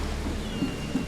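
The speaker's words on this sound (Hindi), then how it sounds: "तो भाई बहुत तेज़ बारिश हो रही है." Heavy rain pours in the video game The Sinking City, a steady, dense hiss of downpour filling the scene with a couple of soft low thumps and no voices.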